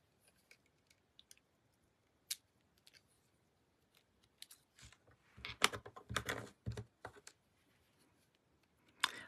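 Die-cut paper frames being poked out of a card panel, scattered soft ticks that build into a dense cluster of close paper crinkles, snaps and tearing pops, then thin out.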